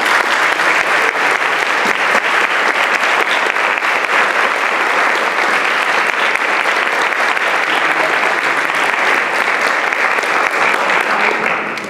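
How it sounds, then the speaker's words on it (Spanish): A school ceremony audience in an auditorium applauds loudly and steadily, a dense, continuous clapping that fills the hall from start to finish without a break. "yo pido al auditorio un fuerte aplauso para nuestra facultad"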